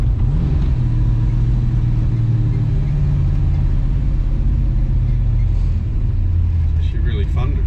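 A Holden HT Monaro on the road, its engine giving a steady low rumble with road noise throughout, close and loud, with a slight rise in revs near the end.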